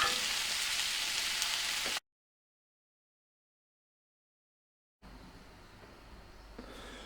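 Corn, jalapeno and zucchini frying in a pan, a steady close sizzle with a crackling hiss that drops out to silence for a few seconds, then returns at a similar level.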